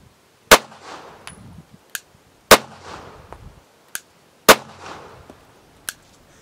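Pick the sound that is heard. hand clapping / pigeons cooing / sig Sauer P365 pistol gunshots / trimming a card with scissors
sig Sauer P365 pistol gunshots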